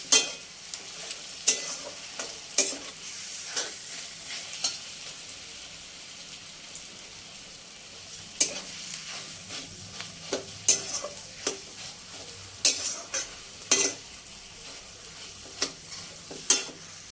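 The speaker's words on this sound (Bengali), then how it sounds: "পেঁয়াজ আলুর সাথে ভালো করে মিক্স করে নিয়েছি।" Potatoes and onions are stirred in a frying pan, with a steady sizzle under repeated sharp scrapes and clacks of the spoon against the pan, close and fairly loud, and no talking.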